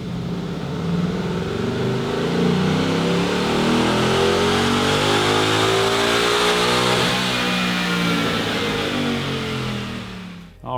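A Mustang V8 engine on a dyno, running 93 octane, revs up in one long continuous pull, growling louder and higher before easing off near the end, close and steady.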